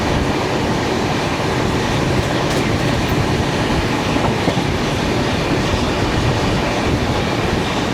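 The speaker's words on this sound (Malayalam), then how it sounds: "അത് ഷിർഡി വിശാഖപട്ടണം എക്സ്പ്രസ് ആയിരിക്കണം." The Shirdi–Visakhapatnam Express passes close by, filling the air with a loud, continuous rumble and rattling clatter of rail cars that never lets up.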